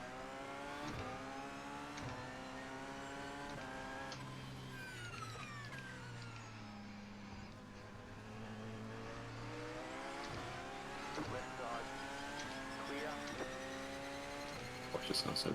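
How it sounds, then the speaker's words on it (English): A Porsche race car engine in the iRacing video game during the 24 Hours of Daytona, rising and falling revs with gear shifts held steady throughout, under occasional talk. "The Porsche sounds really good though"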